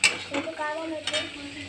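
Sweet potato slices being stirred in jaggery in a pan, a close scraping and sizzling stir with light metal clinks, in two short strokes over about two seconds.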